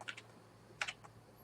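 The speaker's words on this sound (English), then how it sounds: "Let's see if I can actually type in the domain name properly." A handful of soft keystrokes on a computer keyboard while entering a domain name: two quick taps, a pause, then a short cluster of three, faint and close with no talking.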